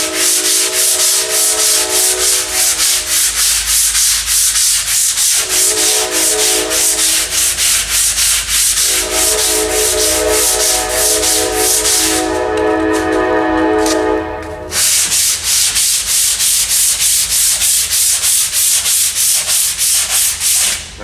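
Hand sanding a body kit on a 2009 Cobalt with 150-grit sandpaper: steady, rhythmic rubbing strokes, close and loud, that run without pause and without talk.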